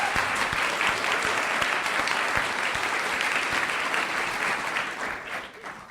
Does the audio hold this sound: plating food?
no